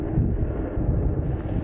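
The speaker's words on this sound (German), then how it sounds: "es ist gerade ganz schön windig" Wind buffeting a microphone outdoors while riding a Yamaha motorbike, a dense low rumbling roar that stays loud and steady throughout with no voice.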